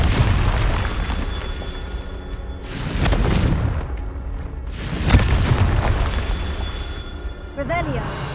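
A Confringo fire spell bursts among rocks in Hogwarts Legacy, with a deep booming blast and rumbling tail, followed by a second heavy explosion, while a voice speaks over the game sound.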